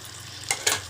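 Boiled eggs, cut into pieces, being stirred into a simmering curry masala, giving a soft sizzle with two brief scraping stirs in quick succession near the end of the second.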